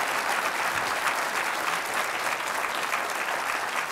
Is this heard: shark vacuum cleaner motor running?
no